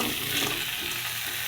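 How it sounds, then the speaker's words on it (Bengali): Pre-fried mixed vegetables for shukto frying in a pan with a ground paste of mustard, cumin, green chilli, salt and turmeric: a steady, close hiss of sizzling with faint stirring, no voices. "সব সবজি দিয়ে সরিষা দিয়ে একসাথে ফ্রাই নেব।"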